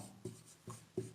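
A pen writes on paper during a maths lesson, giving three soft, brief scratching strokes, faint and close, with no talking.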